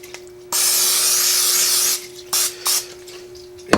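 Cooking spray is sprayed onto one side of a tortilla for chicken quesadillas: one steady, close hiss lasting about a second and a half, followed by two short puffs.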